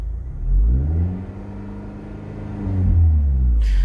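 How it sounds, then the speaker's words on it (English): A car engine is revved twice inside the vehicle during a stereo alternator-whine test. Each rev is a close rumble that swells and falls back to idle, with a brief pause between the two. "I'm gonna go ahead and give it a little gas."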